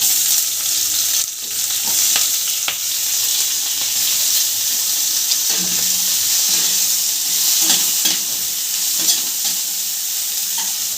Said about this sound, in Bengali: এবার আমি এই বেগুনটাকে একটুখানি এই কালো জিরে কাঁচা লঙ্কার মধ্যে একটু নাড়িয়ে চাড়িয়ে ভেজে নেব